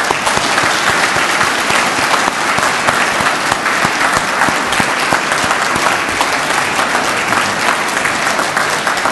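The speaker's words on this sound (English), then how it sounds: "Let's give this group of graduates another round of applause." Sustained, dense applause from a large audience at a law enforcement academy graduation ceremony, loud and continuous for the whole span with no pauses.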